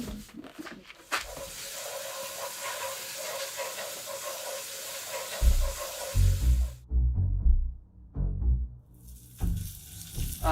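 Food sizzles loudly in a pan with a steady hiss for several seconds. The hiss cuts out, then low knocks and clatter come through close by, and the sizzle briefly returns at the end.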